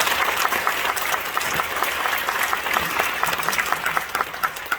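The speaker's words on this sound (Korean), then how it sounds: "박수 한번 쳐주시죠" A church congregation at an anniversary and ordination service applauds in a steady, dense wash of clapping that fills the room for several seconds with no talk over it.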